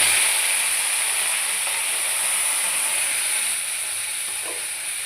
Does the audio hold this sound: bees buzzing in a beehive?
no